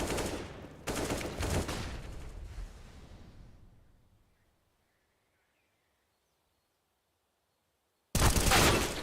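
Bursts of gunfire from a Counter-Strike esports match, loud rapid volleys that fade to near silence, then a sharp new burst of shots at the end.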